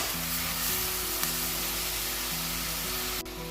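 Sliced onions fry in hot oil in a pan for a fish curry, giving a steady, dense sizzle that holds at an even level throughout, with a faint melodic tone running underneath.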